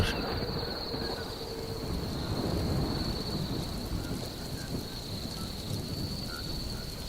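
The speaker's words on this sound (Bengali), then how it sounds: "বিছানার উপর বসতে না বসতেই শুরু হলো প্রচন্ড ঝড়" Steady heavy rain pours down with a low rumble of thunder rolling underneath, continuous and enveloping, no voices.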